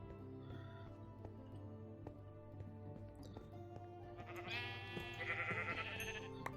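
Sheep bleating in the game Minecraft, a few soft bleats rising near the end over a steady bed of game background sound, with no talking.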